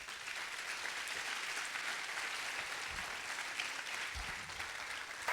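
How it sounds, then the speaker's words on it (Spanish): Sustained audience applause in a church service, a dense even wash of clapping that is moderately quiet and heard alone throughout. "Le damos un aplauso."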